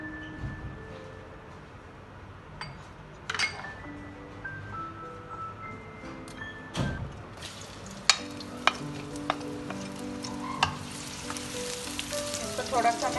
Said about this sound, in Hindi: अब मैं इसमें ये 1 कप के करीब ऑयल डाला मैंने। अब इसमें मैं प्याज डालूंगी।